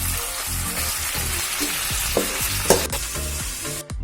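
Beef roast sizzling and frying with onions and curry leaves in a pan, a steady close crackle with intermittent stirring scrapes and a couple of sharper clanks, no voices.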